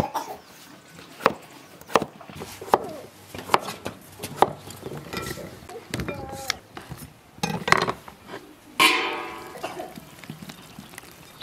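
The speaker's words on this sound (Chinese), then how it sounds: "刚修了几颗洋芋，现在切一下" A knife cutting potatoes on a board in a home kitchen, a string of sharp, irregular close-up taps and clicks with quiet gaps between strokes and a faint voice now and then.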